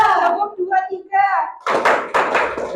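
A classroom group claps a short counted pattern during a microteaching lesson, with several dense clap bursts following a child's spoken instruction, the claps close and fairly loud.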